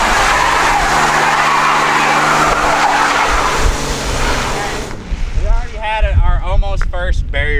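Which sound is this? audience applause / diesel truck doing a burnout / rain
diesel truck doing a burnout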